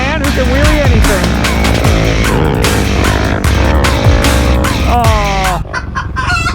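A loud off-road vehicle engine on the Glamis sand dunes revs hard during a wheelie, its pitch sweeping up and down in strained surges before dropping away near the end.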